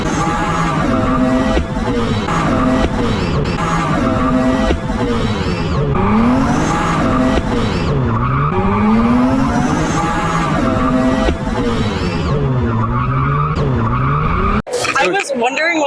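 A car does a burnout at a burnout contest, tires squealing and the engine revving hard in sustained waves, loud and continuous, ending with an abrupt clatter.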